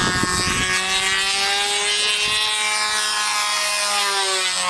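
Steady high-pitched buzz of a control line F2B model aircraft engine during aerobatics, a loud continuous whine that rises and falls in pitch as the plane swings through a wingover.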